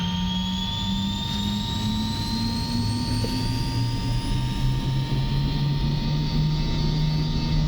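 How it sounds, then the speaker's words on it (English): An MD-80 jet engine in Microsoft Flight Simulator whines and roars continuously on the runway before takeoff, its pitch rising slowly and steadily as it spools up, loud and unbroken throughout. "Now listen to the engine spool up"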